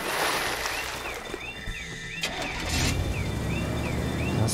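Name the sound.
car engine in the video game Teardown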